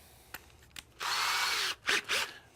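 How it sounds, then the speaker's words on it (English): A power drill bores a pilot hole in wood in a wood shop, a few brief trigger taps and then a steady close whine of about three-quarters of a second, followed by two short bursts. "So I'm gonna do half of that, and I'm gonna drill a hole right there."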